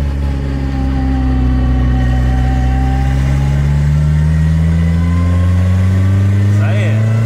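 A VW Gol Turbo car engine hums steadily as the car pulls away in second gear, a loud sustained drone with slowly rising pitch and cabin rumble, heard from inside the car.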